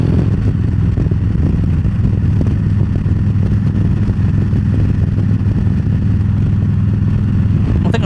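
A motorcycle cruising on the highway in sixth gear, with a 6-inch windshield on the bike, its engine holding a steady, loud droning hum with heavy wind rush throughout, unbroken and constant.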